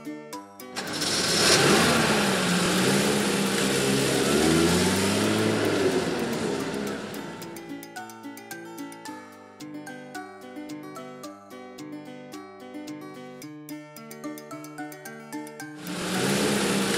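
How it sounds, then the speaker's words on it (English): A vintage car engine revs loudly and unevenly for several seconds, its pitch rising and falling, before a plinking tune takes over. The engine returns briefly at the end. "Vintage car."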